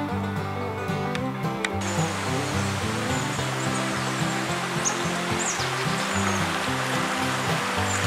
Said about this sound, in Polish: Rzeka Byszczyca Dusznicka między Polanicą Zdrój i Szczytną.